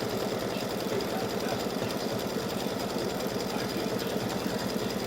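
An embroidery machine sewing a triple stitch through backing fabric, a fast even needle chatter with a low motor hum, steady and close throughout.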